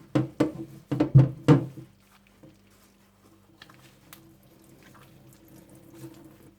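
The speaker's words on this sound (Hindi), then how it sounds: "15 मिनट गुजरने के बाद आप इसका सारा पानी निचोड़ दें।" Water squeezed by hand from freshly made homemade cottage cheese, a few quick splashing gushes followed by faint dripping and trickling into a bowl.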